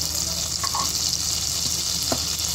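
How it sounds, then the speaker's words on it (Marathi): Cumin seeds frying in oil and melted butter in a pan, a dense continuous sizzle at steady loudness with a couple of faint brief clicks from stirring. "आता जिरं आपलं छान व्यवस्थित फ्राय झालं आहे"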